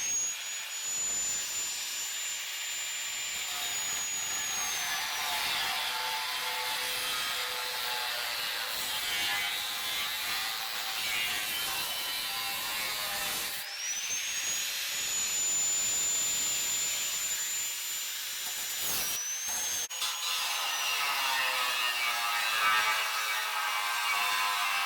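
An angle grinder works rust off a steel trailer frame, a steady loud high-pitched whine with the tone dropping under load and briefly rising when the disc spins free, alone throughout.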